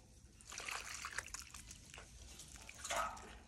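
Water poured into a mixture trickles and splashes softly, a faint, uneven stream that swells again near the end, with no talk.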